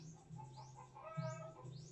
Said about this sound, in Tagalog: Yan po ang boses ng manok guys.